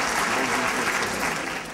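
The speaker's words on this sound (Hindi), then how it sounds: "तो भरपूर तालियां।" Audience applause at the Faiz Mela 2014 gathering, a dense, even burst of many hands clapping that holds steady for under two seconds before easing slightly.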